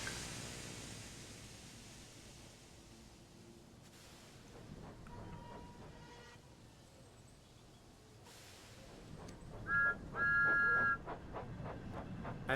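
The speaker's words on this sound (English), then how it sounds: "I still love his whistle." Thomas the Tank Engine's steam whistle in a Thomas and Friends video game gives two short high toots near the end, after a long stretch of steady rail rumble and hiss.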